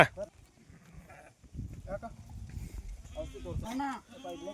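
Sheep bleat nearby, sick from eating Roundup weed killer, wavering calls that overlap with people talking over the animals.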